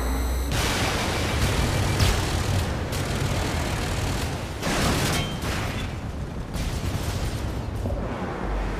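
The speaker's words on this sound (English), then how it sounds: "the sounds of the explosions and gunfire, all hell breaking loose" Chaotic Warhawk battle sounds on PlayStation 3: a dense, loud, continuous wall of explosions and gunfire with rumbling low end and repeated heavy bursts throughout, no voices.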